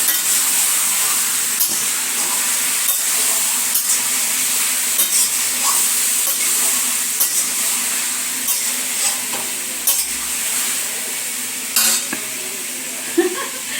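Chicken frying in hot oil gives a steady, fairly loud sizzle throughout, broken by occasional scrapes and clinks of a utensil stirring in the pan.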